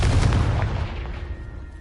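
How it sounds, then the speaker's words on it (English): A Confringo explosive spell in the video game Hogwarts Legacy goes off as one loud burst, with a heavy low boom that rumbles and slowly fades over about two seconds. "Confringo!"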